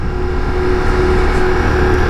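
A 2024 Ducati Diavel V4 motorcycle with a V4 Granturismo engine pulls hard on a cold road, sending a loud, steady engine roar with a constant tonal whine and heavy wind rush, close and continuous for about two seconds.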